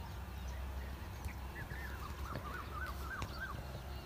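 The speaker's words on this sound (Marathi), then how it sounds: "चिमण्यांचा आवाज बघितला काय," Small birds, likely sparrows, chirp and twitter in short repeated bursts outdoors, moderately close but fairly faint over a steady low background hum, with no talking.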